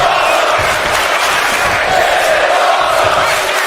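A dense, steady roar of arena crowd noise from the WWE 2K25 wrestling video game, loud and continuous throughout with no breaks, a chanting audience filling the whole clip.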